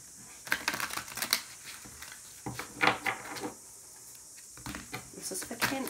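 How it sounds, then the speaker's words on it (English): A deck of large tarot cards is shuffled by hand in short, crisp bursts of papery riffling and clatter. The bursts are separated by brief quiet gaps. "So with that, let us start shuffling."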